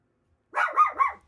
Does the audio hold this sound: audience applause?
no